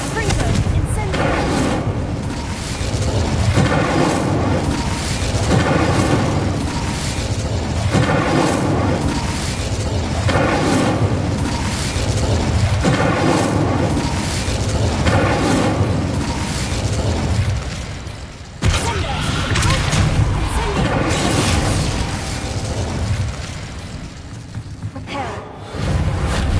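Spell blasts from Confringo and Bombarda burst repeatedly amid dense, continuous combat noise in the Hogwarts Legacy game, loud and layered with booming impacts and whooshes.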